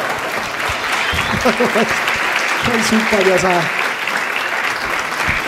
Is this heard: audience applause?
yes